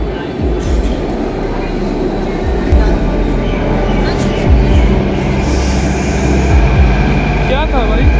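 A metro train runs at a station on Delhi's Yellow Line, with a loud continuous rumble and rolling rail noise heard from close by, plus squeals and a faint rising tone near the end.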